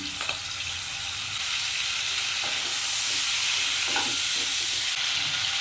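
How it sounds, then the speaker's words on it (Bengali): Prawns frying in hot oil in a pan, cooked for kachur lati with prawns: a bright, hissing sizzle that grows slightly louder midway, with a few faint clicks of utensils and no voices. "তেলটা গরম হয়ে গেছে আমি প্রথমে চিংড়ি মাছগুলোকে ভেজে নিচ্ছি"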